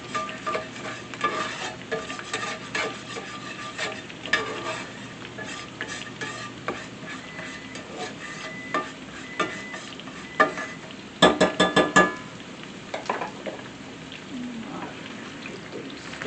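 Flour cooks in a pan, giving a continuous close sizzle with frequent scraping and stirring clicks and a burst of louder spatula strokes near the end; no one speaks.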